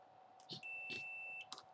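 A single steady multimeter continuity beep holds for under a second, faint and close, with light clicks and handling noise around it, testing a ground on a drone ESC.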